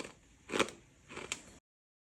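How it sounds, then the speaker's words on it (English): Two crisp crunches of a banana chip from a Canadian military ration being bitten and chewed, close and quiet with a pause between them, no talking. "Let's try just a banana chip first by itself."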